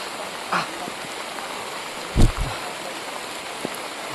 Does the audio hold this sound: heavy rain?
yes